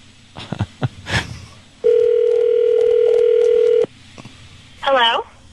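A radio show places an on-air phone call to a listener: a steady telephone ringback tone holds for about two seconds after brief talk, then a short burst of line noise follows. A host speaks before the tone.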